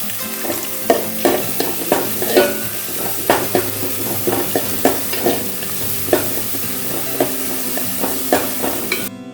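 Onions with a pinch of salt stirred and sautéed in a hot pan for a Kerala-style prawn roast, a steady sizzle broken by regular scraping strokes of a spoon, close and continuous with no talking.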